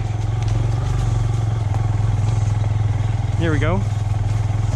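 A brand new Honda Grom motorcycle engine runs loud and close while being ridden, a steady throbbing drone with rider talk over it.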